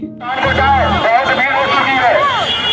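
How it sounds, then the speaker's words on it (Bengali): A dense festival crowd packs the streets of Varanasi on Maghi Purnima, a steady babble of many voices under loud close speech, with traffic rumbling through the murmur. "এত ভিড় গঙ্গারতি বন্ধ করে দিয়েছে"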